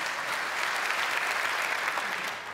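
Steady audience clapping at a TEDx talk, a dense, even wash of many hands that holds throughout and eases slightly at the end.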